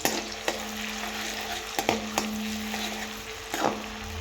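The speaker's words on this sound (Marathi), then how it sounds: "तर आपल्याला ही शिमला चांगली तळून घ्यायची आहे." Capsicum frying in butter for pav bhaji, a close steady sizzle broken by several sharp clicks and scrapes of a spatula stirring against the pan, no talk.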